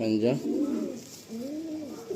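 Pigeons in the Babusona loft at Kanchrapara coo close by, a throaty rolling call followed by a second, softer drawn-out coo, with voices heard in the background.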